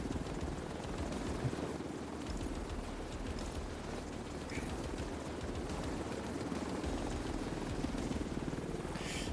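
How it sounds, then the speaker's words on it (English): Helicopter in a video game, a continuous close rotor thrum with rapid blade chop and engine roar, steady and fairly loud for the whole stretch, with no talking. "This chopper is kind of late."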